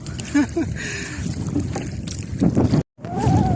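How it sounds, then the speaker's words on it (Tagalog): Strong wind roars steadily across the microphone over open sea after a typhoon, with brief voices underneath and a short dropout near the end. "malakas pa rin po yung hangin"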